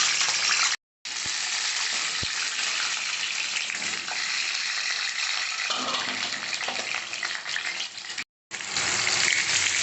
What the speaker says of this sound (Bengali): কড়াতে সরষের তেল দিয়েছি, আলুটাকে লাল করে ভেজে নেব।